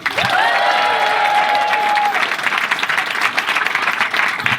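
A crowd applauds and cheers loudly, with a whistle rising over the clapping at the start, then continuous applause that stays strong to the end.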